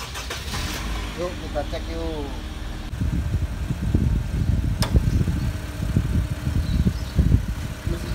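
A used car's engine turning over and then settling into a low, steady rumbling idle nearby, with someone talking over it at the start.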